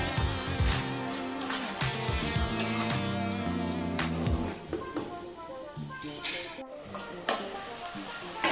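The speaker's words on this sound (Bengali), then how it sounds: "আমরা বেশ ভালো করে মিশিয়ে নেব।" Chicken curry being stirred in a hot pan for Kolkata-style murgir jhol, with a steady sizzle of frying and repeated scraping strokes of the spoon, loud and close, quieter sizzling after the stirring eases.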